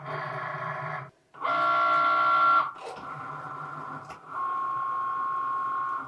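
A Cricut Maker cutting machine slices paper pieces for a patriotic rosette, its motor whirring in tonal bursts of varying pitch, with short pauses between carriage movements, fairly close and alone.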